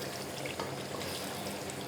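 Water pours steadily into chandi korma cooking in a pot, a soft continuous trickle with no voices over it.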